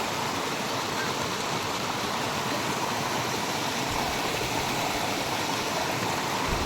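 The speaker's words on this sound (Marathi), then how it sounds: "छोटा छोटा धबधबा" Steady rushing water from a small waterfall in rainy-season Konkan, a constant broadband hiss without pauses, fairly close and even in loudness.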